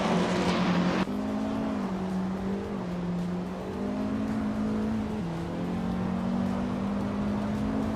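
Race car engines drone steadily in a racing video game, a loud sustained whine with shifting pitch as cars pass and accelerate, following a sharp burst at the start.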